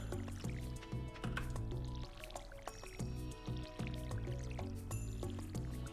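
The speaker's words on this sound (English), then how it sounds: "there's a lot of watering to be done, and water we shall." Crops being watered in the farming game Stardew Valley, with soft, repeated splashing and pouring sounds at a steady pace under continuous background music.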